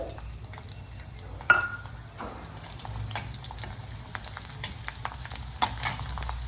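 Crispy green chillies frying in hot oil for murmure chiwda, a steady close sizzle with occasional scrapes and clinks of stirring, no voices.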